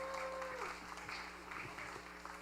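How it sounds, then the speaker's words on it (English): Applause from a festival audience at an outdoor butter tart event, a moderate patter of clapping under a steady background hum, with a brief tone early on. "But round of applause for Joseph."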